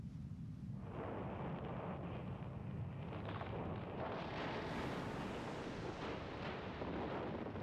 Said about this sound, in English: Oh, cool guy walking away from an explosion.